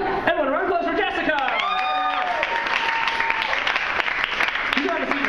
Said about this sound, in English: Everyone, round of applause for Jessica!